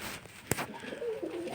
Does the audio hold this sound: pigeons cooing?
yes